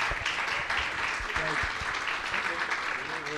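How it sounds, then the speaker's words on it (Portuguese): An audience at a national meeting of state health surveillance coordinators gives a round of applause. The steady clapping runs throughout, with some low voices mixed in. "Uma salva de palmas"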